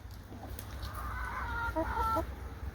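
Hens cluck and chatter in a backyard chicken yard beside an old rusty fence, several short calls rising through the middle of the stretch over a steady low outdoor rumble, fairly close and continuous.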